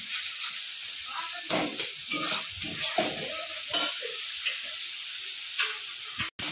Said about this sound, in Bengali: মশলাটা ভালো করে কষিয়ে তারপর আলু কচুটা দিয়ে কষিয়ে নেব